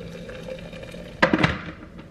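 Freshly boiled water poured from a kettle into a glass French press holding ground coffee, heard as a brief close splash and clatter after a quiet stretch of room hum, then fading out.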